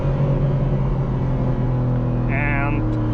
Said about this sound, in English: This S58 is a really great engine, and also the exhaust is really nice.